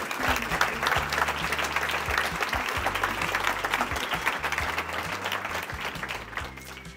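Audience applause welcoming choreographer and dancer Jean-Claude Gallotta onstage at a resilience night event, sustained dense clapping throughout, fairly close and even.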